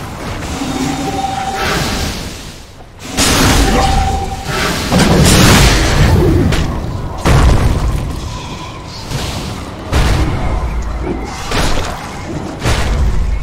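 Dota 2 game audio has a middle tower under attack, with a dense, loud run of booming explosions, thuds and crashes. Heavy impacts keep overlapping for the whole stretch.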